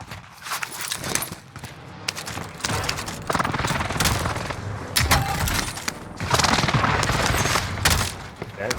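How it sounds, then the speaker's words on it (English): Explosions from an enemy precision airstrike in a first-person shooter video game, heavy blasts and bursts of gunfire landing close in repeated waves, loud and chaotic. "Enemy precision airstrike."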